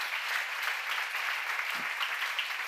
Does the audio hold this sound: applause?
yes